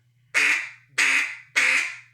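Someone blows a duck call in imitation of a duck, giving three loud, raspy quacks at an even pace with short gaps, close and clear with no talk.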